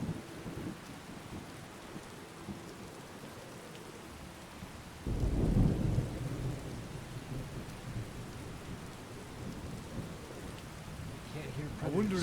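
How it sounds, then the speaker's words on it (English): Steady rain with rolling thunder during a thunderstorm in the Skyrim video game; a loud thunder rumble swells midway over the constant downpour. "I wonder if we should get some shelter. Wait out this rain."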